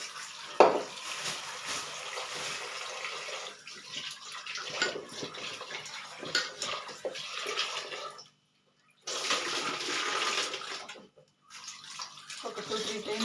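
Sweet potatoes washed under running tap water, a steady close splashing rush that briefly stops twice, with light knocks of the tubers and occasional handling sounds.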